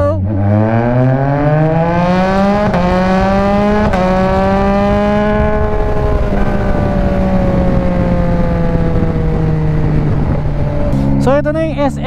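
Big bike motorcycle pulls away in second gear, engine note climbing steadily then easing off as it cruises, loud and close, with a second rev burst at the end.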